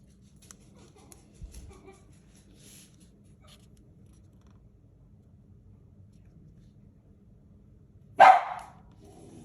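Mostly quiet room with faint rustling, then a single sharp, loud puppy bark near the end.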